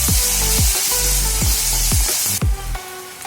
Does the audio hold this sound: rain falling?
no